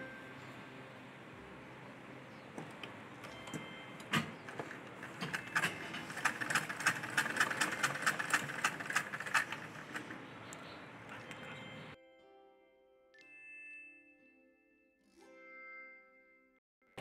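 A sewing machine stitching along the pocket of a ladies' palazzo pant runs in a dense, steady burr of rapid needle strokes for about twelve seconds, then stops, leaving faint clicks and a soft tonal hum in near silence.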